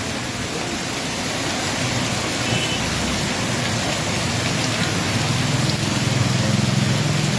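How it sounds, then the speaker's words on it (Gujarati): Steady, even rain falls continuously in Vadia, Gujarat, a dense soft hiss of drops on surfaces with no wind gusts and no voices. "કોઈ વાવાઝોડા જેવો નથી શાંતિથી વરસે જ છે"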